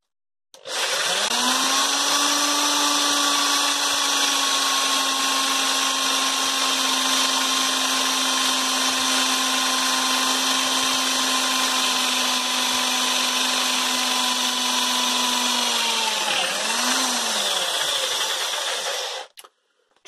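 A Parkside PSBM 750 B3 hammer drill, hammer mode off, whirs steadily at high speed for a long stretch, dips briefly near the end, then stops; no voices.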